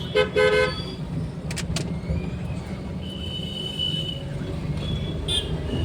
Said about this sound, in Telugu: ఓకే నిదానంగా వెళ్ళండి హార్న్ కొట్టండి